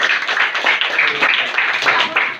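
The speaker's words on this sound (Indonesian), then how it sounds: "tepuk tangan buat kalian dulu." Primary school children in a classroom clap their hands after an electronics lesson. The claps are rapid and uneven and come from close by, with voices calling out over them.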